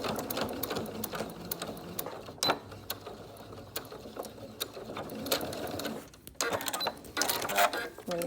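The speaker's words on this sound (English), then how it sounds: "I'll put this under our sewing machine." A sewing machine stitches a 3-D fabric facemask in rapid mechanical bursts, its needle clatter starting and stopping with short pauses and clicks between runs, heard up close and with no voices.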